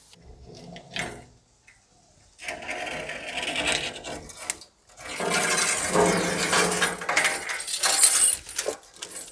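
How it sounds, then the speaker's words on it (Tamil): A hacksaw frame cuts through a metal padlock, its rough rasping strokes coming in uneven bursts with short pauses between them, close and fairly loud. "சிலர் இந்த மாதிரி ஆசா ஃப்ரேமை பயன்படுத்தி இந்த மாதிரி அறுத்து இந்த பூட்டை வெட்டி எடுப்பாங்க"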